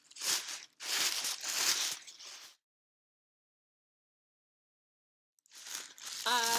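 Layers of tissue paper rustle and crinkle as they are pulled apart to fluff a pom-pom, in a few close soft bursts, then a long silence and more crinkling at the end.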